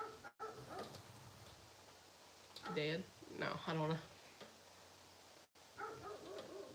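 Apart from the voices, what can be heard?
dog barking and shaking the front door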